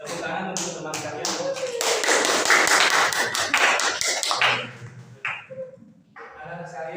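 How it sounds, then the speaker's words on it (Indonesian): Classroom applause for classmates, a burst of children's clapping that swells for a few seconds then fades, with voices talking before and after. "Tepuk tangan untuk teman kalian."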